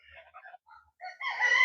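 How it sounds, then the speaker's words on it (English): Ducks on a farm with goats, chickens and turkeys give a short run of chattering quacks and calls, close and moderately loud, building into a denser burst at the end. "The ducks are all chatty."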